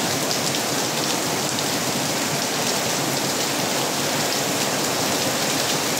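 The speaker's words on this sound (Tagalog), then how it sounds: "Napakalakas ng ulan." Very heavy rain pours in a dense, steady roar throughout, loud and unbroken, with no voices.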